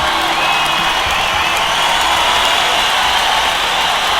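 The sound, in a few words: applause and cheering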